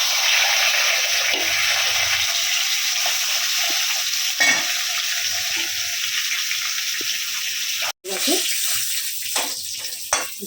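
Potatoes coated in salt and turmeric fry in a pan, giving a loud, steady broadband sizzle with occasional scrapes and stirring knocks throughout.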